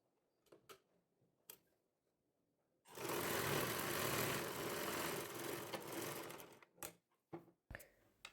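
A sewing machine runs in one continuous burst of about four seconds while stitching a square neckline, preceded and followed by quiet clicks and handling sounds.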